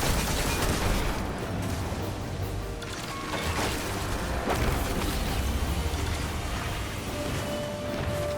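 Grenade blasts and gunfire in the video game Destiny during a Grandmaster Nightfall fight, a dense continuous roar of booms and bursts with sharp spikes near the middle.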